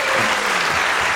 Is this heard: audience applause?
yes